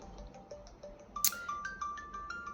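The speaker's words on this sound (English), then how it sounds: "Wait, my phone's ringing." A mobile phone ringtone plays a short repeating electronic melody of bright tones, with a sharp click partway through, heard clearly indoors with no voices over it.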